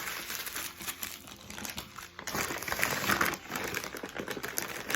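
A plastic bag crinkles and rustles steadily throughout, close up, with irregular crackles and scrunches rising and falling in bursts.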